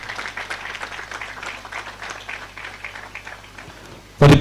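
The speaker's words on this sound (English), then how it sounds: "So we have double applause for her." An audience claps steadily through a graduation convocation ceremony, a dense, even wash of applause from a large crowd, ending with a sudden louder thump.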